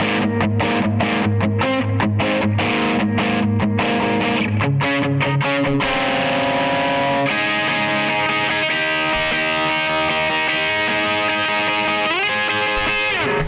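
An electric guitar played through an OCD overdrive pedal, with choppy palm-muted riffing at first that gives way to sustained distorted chords ringing out, loud and close throughout.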